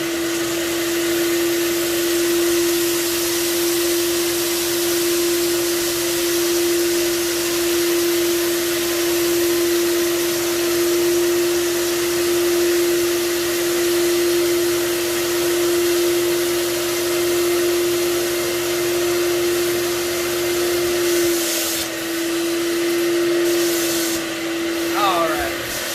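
A FLEX cleaning machine makes a dry extraction pass, giving a loud, steady vacuum-like whine that holds constant throughout before shifting slightly near the end.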